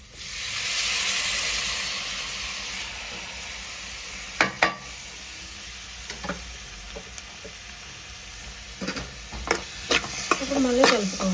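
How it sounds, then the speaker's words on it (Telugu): Chopped tomatoes frying and being stirred into ivy gourd curry in a pan, a steady close sizzle with scraping spoon strokes and occasional clinks, no voice. "ఇప్పుడు మనం ముందుగా కట్ చేసుకున్న టమాటాలు వేసుకోవాలి."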